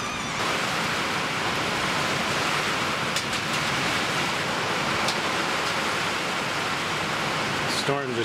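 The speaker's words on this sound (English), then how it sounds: "Hopefully they won't get smashed by the huge hail that's coming down." Heavy hail pounding down in a worsening storm over freshly laid solar panels, a dense, steady roar of impacts filling the whole stretch at close range, with no talk.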